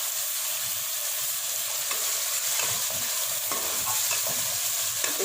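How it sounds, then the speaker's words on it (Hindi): Chicken and tomatoes fry with ginger garlic paste in a pan for a Pakistani-style chicken palak, sizzling steadily up close while a spoon stirs and scrapes through the mixture. "अब मैं इसमें ऐड करूँगी अदरक लहसुन का पेस्ट"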